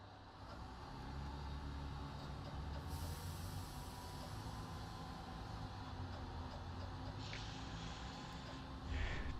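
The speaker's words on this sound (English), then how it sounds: "This diesel train seems to be taking ages to get moving" A diesel train in Train Simulator Classic, on the Barking to Gospel Oak line, rumbles with a low, steady engine drone as it slowly pulls away, with faint hissing and clanks layered over the continuous hum.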